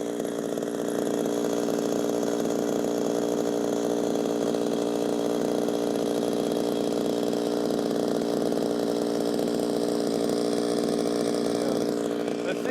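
Chainsaw cutting wood, a Homelite XL76 or Makita 5600, its engine holding a loud, steady high-revving whine through the cut with no break.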